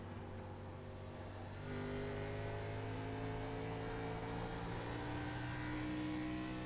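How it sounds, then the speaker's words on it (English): An engine roars and holds steady on a race car at an oval track event, with a droning, slightly wavering tone that swells up partway through. The sound is moderate and continuous, with no voices over it. "As you hear the tires ever so slightly slipping there for Parker"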